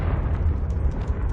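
A fiery Confringo spell explodes in the Hogwarts Legacy video game, a loud dense blast with a thick low rumble that fills the whole short moment.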